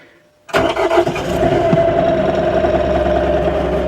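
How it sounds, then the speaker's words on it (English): A 2019 New Holland Boomer 40 tractor engine starts in very cold weather, cranking briefly then catching and settling into a steady, loud, close idle. "The tractor fires up really nice, even in very, very cold temperatures."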